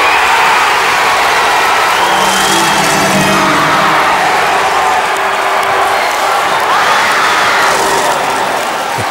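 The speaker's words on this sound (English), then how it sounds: "The crowd celebrated." A large crowd roars with sustained cheering and applause as the 2012 Olympic Games are awarded to London; the celebration is loud, dense and continuous throughout.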